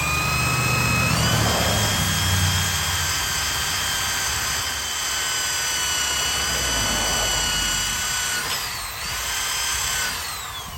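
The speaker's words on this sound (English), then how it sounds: "So we'll take a wire wheel, and we're gonna clean the paint up" A drill spins a wire wheel against painted trailer metal, a steady loud whine with abrasive grinding that holds for about ten seconds and briefly dips in pitch as pressure changes.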